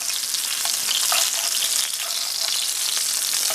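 Rock cod frying in hot oil, a dense, loud, continuous sizzle and crackle with occasional pops, close and steady throughout.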